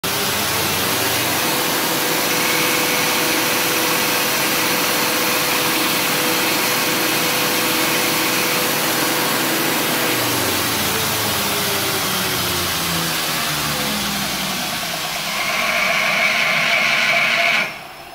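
A belt grinder runs at its full 7,000 speed, giving a loud continuous whirring hiss that shifts slightly in pitch before winding down at the end.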